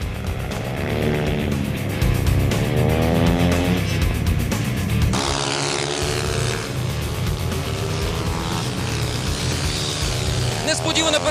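Supermoto motorcycles race on an asphalt track, their engines revving and winding up as they accelerate out of corners in rising, whining sweeps, while a commentator talks over the racket.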